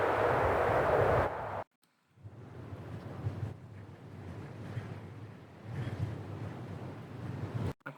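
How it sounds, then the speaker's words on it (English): A rumbling, gusty wind texture layered as Star Wars ambience sound design, with a sand-grain scratch layer. It drops out abruptly for a moment near the start, then swells back and roars steadily with no voices. "quite like the texture of that wind sound."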